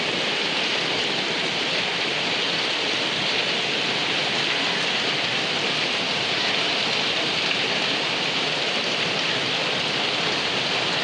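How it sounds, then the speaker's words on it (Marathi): Heavy rain pours down steadily in a coastal Konkan village, a dense, loud, unbroken hiss of downpour drumming on surfaces without a pause, with no voices over it. "तर पावसा बघा काय झालं आता काय पाऊस पडत आहे बघा"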